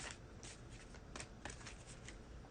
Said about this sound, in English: So I'll shuffle and then take the one from the top.